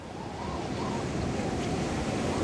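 Calm sea washing against a reef off Tokelau where a boat is moored, a steady broadband surf hiss with faint wind, continuous and moderately loud, no voices.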